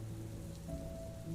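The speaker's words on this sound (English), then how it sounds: "It's raining outside." A rainstorm sound effect in a Gacha animation, a soft steady patter of rain on surfaces, faint and low beneath a quiet background hum.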